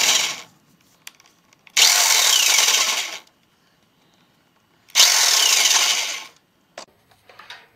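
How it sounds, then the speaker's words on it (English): A Drill Master power drill bores a hole during a mud mower build, running in two loud bursts of about a second and a half each, separated by a quiet pause and followed by small clicks and handling noises. "I got my drill master to do this with"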